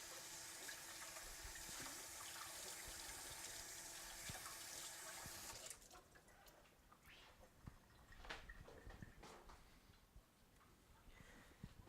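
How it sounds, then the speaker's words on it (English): Tap water runs hard into a sink as hands are washed, a loud steady hiss that stops about halfway, followed by faint drips, splashes and small handling clatters. "Just wash my hands."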